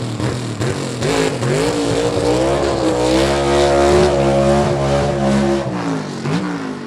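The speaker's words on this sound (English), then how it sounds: "Long smoky burnout, getting those Mickey Thompsons good and hot right there on the back of that Rambler" A Rambler gasser drag car on Mickey Thompson tyres roars loudly through a long smoky burnout, its engine holding a steady, powerful drone with rising and falling revs close by.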